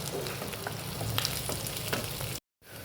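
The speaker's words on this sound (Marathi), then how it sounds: "मी 4 कांदे घेतले, ते कट करून तेलात भाजूया। त्यात आल्याचे तुकडे घालूया, त्यात 10-12 लसूण पाकळ्या घालूया आणि परतून घेऊया।" Sliced onions with ginger pieces and a dozen garlic cloves sizzle and crackle steadily in hot oil, close up, with occasional stirring scrapes, before a brief drop to silence near the end.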